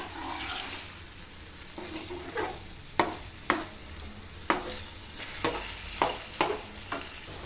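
Red chilli chicken masala stirred and fried in a pan, a constant sizzle beneath a string of close, sharp scrapes and taps that come faster toward the end, with no voices.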